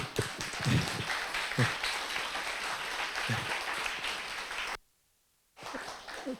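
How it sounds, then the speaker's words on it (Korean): At a 2022 leadership workshop, an audience claps for a couple. The crowd applause is steady and fairly loud, cuts to a brief silence, then resumes. "자, 두 분 우리 박수로."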